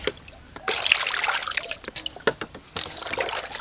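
A very large cow placenta is rinsed clean with water. Steady trickling and splashing runs close and fairly loud, broken by brief pauses and small knocks.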